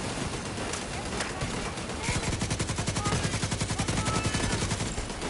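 An automated turret in The Division 2 fires a rapid, evenly spaced burst of shots lasting several seconds, loud and close after a stretch of scattered gunfire and game noise.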